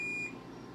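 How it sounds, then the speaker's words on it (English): A single electronic oven timer beep holds a steady high tone briefly, then cuts off, leaving quiet room noise behind. "the oven just beeped"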